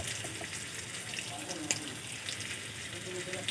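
Chili and cumin powder frying in a pan for a silver carp and potato fish curry, a faint, even sizzling hiss with a small tap or clink partway through.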